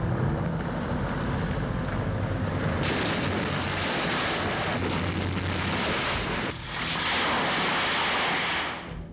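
A car rolls into the Kanawha River, loud rushing and churning water surging around it, with a brief dip before the roar swells again and then cuts off.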